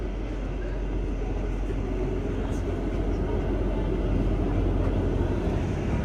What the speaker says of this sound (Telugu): అండ్ మన ట్రైన్ కూడా షార్ప్ 5:25 అవుతుంది, బయలుదేరిపోయింది ఇక్కడ నుంచి అయితే.